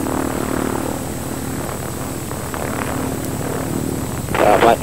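A Harvard propeller aeroplane sits on the ground at Blackpool, its radial engine droning steadily as it prepares to taxi, with a louder burst of engine noise near the end.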